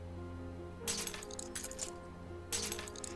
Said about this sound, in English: Let's just use the tongs to pull out the glass and see what happens there.